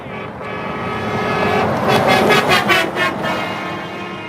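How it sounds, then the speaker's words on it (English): A Mack truck air horn sounds in a steady tone over road traffic noise, fairly weak and short, followed by passing engine rumble. "That was a piss poor air horn."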